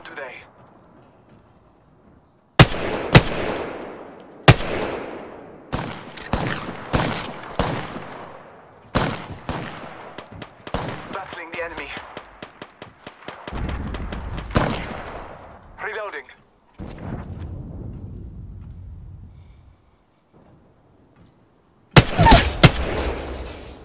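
Gunfire in a shooter video game, loud close bursts of shots and rapid automatic volleys in clusters separated by quieter gaps, with a final heavy burst at the end.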